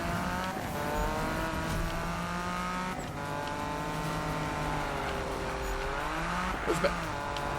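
A car sliding and drifting in the Need for Speed video game, its engine droning in steady wavering tones with a faint tire squeal, under a voice talking.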